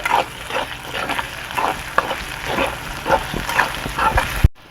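Potatoes frying with ginger garlic paste crackle and sizzle steadily while a spoon scrapes and stirs in an uneven rhythm, close and fairly loud.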